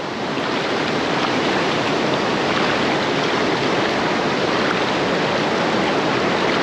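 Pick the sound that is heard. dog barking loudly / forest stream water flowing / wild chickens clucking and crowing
forest stream water flowing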